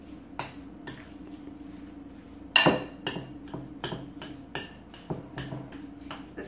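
Salt is stirred into soft homemade goat milk chevre, producing a series of clear metallic spoon clinks against a bowl at a steady pace, with one sharper louder knock partway through.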